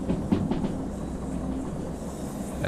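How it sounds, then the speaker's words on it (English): Train brakes in the Derail Valley game, a steady low rumble with faint screeching hiss, constant and moderately loud throughout. "That is the sound of my brakes"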